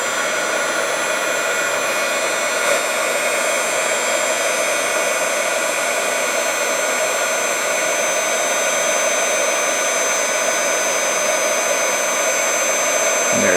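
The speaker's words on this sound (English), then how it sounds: "And then with the hair dryer, we're just going to basically just heat this up until it melts" A hair dryer blows hot air over a dried-up gel eyeliner to melt it, a loud, steady whirring whoosh that holds constant from start to finish.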